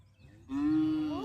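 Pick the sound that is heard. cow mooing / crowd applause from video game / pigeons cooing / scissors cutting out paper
cow mooing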